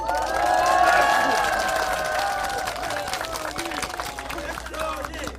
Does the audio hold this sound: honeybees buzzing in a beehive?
no